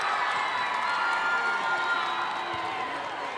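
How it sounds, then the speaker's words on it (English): Window Rock fans cheering in a high school boys basketball gym against Chinle, a dense, sustained crowd roar with shouts and whoops that fades slightly toward the end. "Heard plenty of Window Rock fans cheering yes for that."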